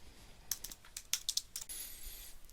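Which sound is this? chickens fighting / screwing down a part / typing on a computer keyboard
typing on a computer keyboard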